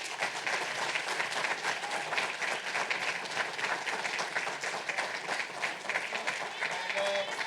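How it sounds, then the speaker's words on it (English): Continuous round of audience applause at a law school alumni banquet, steady and fairly distant, with scattered voices and cheers mixed faintly in the crowd. "Can we just give a round of applause for the graduating 3Ls?"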